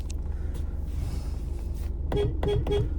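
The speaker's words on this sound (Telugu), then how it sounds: "హారన్ ఇది" A vehicle horn gives three short, bright honks near the end, over a low steady engine rumble.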